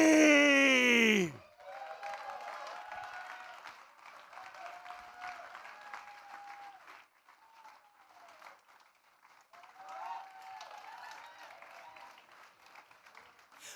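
A championship audience at the Excel World Championship finals breaks into applause and scattered cheers for a player from China, following a loud announcer's voice at the start; the clapping is steady and moderate, crowd-wide and fairly distant.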